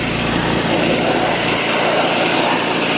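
A loud, close, continuous vacuum drone fills the whole stretch as the ripple tray of a Keene 151 dry washer is cleaned out during gold prospecting in Arizona.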